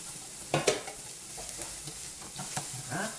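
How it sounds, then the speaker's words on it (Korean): Carrots stir-fried in oil in a pan for japchae, giving a soft sizzle under several sharp scrapes and clinks of a utensil against the pan. "다시 기름 넣어주는데 자, 오이보다는 조금 넉넉하게 당근 들어오도록 하겠습니다."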